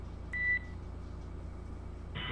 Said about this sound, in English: The Kindar, the beeps always gets me